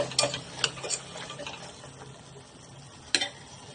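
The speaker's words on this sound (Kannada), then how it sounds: "ಇದನ್ನ ಹಾಕಿ ಸ್ವಲ್ಪ ಇದೇ ಮಸಾಲೆಯಲ್ಲಿ ಸ್ವಲ್ಪ ಬಾಡಿಸ್ಬೇಕು" Potatoes and peas are stirred in masala in a pan. A spoon makes sparse, light clicks and knocks against the vessel, with quieter stirring between them and a faint sizzle underneath.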